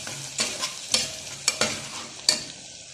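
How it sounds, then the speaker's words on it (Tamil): Ginger garlic paste fries in a pan for mutton dum biryani, with a soft steady sizzle under a spoon that stirs and scrapes in a handful of distinct strokes. "இப்போது இஞ்சி பூண்டு பேஸ்ட்டை போட்டுக்கலாம்."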